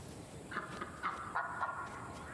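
Ducks in the video game Lost Ember give a series of soft, nasal calls, about five short quacks spaced unevenly over a quiet outdoor background.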